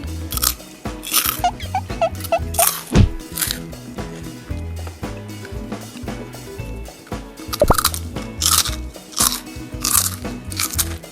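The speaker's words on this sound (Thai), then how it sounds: "ไหนประชันเสียงแคบหมูหน่อยสิ" Crispy pork rinds are bitten and chewed up close, giving loud, crackling crunches that repeat in bursts with short pauses between bites.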